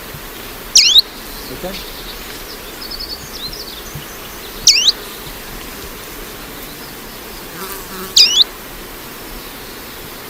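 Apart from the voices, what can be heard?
call of a vagrant leaf warbler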